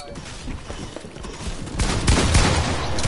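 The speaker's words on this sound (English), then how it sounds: "They're shooting, but I can't." Rapid video game gunfire in a dense, continuous burst that grows louder and heavier in the last second, with no clear speech over it.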